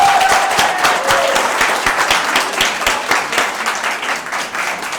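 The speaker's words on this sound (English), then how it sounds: "let's have a round of applause" A church congregation at a Sunday service bursts into loud, sustained applause, many hands clapping densely and evenly for several seconds with a few voices faintly mixed in.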